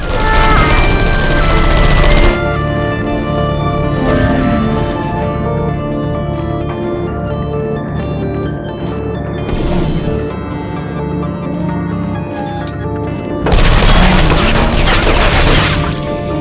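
Portal 2 turrets fire in loud bursts of gunfire against steady game music, with a speaking voice in between and a final heavy burst near the end.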